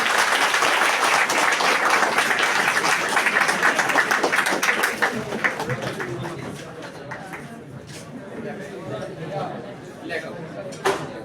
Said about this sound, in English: Let me get a big round of applause from you.